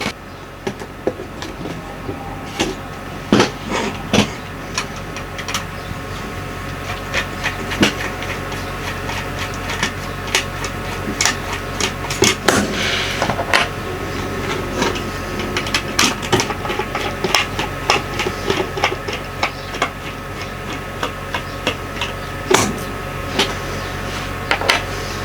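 Bogies are stripped off a Cavalex PFB Warflat model railway wagon, producing scattered small plastic clicks, snaps and taps over a steady low hum, close up and with no talking.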